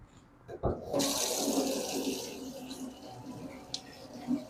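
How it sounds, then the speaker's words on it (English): Tap water runs into a sink as hands are rinsed, a soft, steady splashing stream that starts abruptly and continues at close range with faint handling sounds. "let me rinse my hands."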